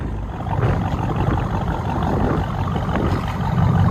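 A straight-piped SRT SUV engine idles with a deep, steady, continuous rumble that stays loud and close throughout, swelling slightly near the end.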